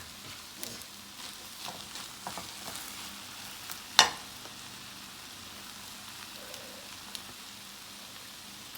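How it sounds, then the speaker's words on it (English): Onions, green onion and hot pepper fry in a pan as they are mixed, a soft steady sizzle with scattered stirring scrapes and one sharp clank midway, close up. "So I'm gonna go in now and add my onions, green onion, hot pepper. Give it a good mix."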